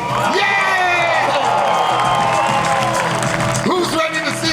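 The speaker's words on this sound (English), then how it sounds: "we want to give a big round of applause to Universal for making it happen" Crowd applause and cheering with whoops and children's shouts at the grand opening of the Fast & Furious: Supercharged ride at Universal, loud and continuous throughout with voices mixed into the noise.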